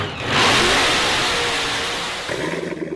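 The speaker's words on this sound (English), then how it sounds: "That's the sound of America's only sports car." A Corvette sports car engine revs hard, a loud close roar that swells quickly, holds, then eases back toward a rougher idle.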